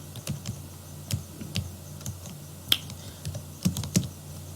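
Light typing on a computer keyboard while writing a C program, a series of quick irregular clicks and key taps, fairly quiet and close, with no voice.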